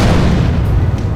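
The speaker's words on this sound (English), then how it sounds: "booms" A cinematic trailer boom hits hard and loud: a dense, rumbling low-end blast that sustains through the whole moment without a break.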